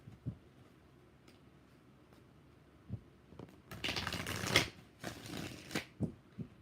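Tarot cards are shuffled in two bursts of rapid riffling flutter, close and crisp, with a few isolated taps and card handling sounds before and between them.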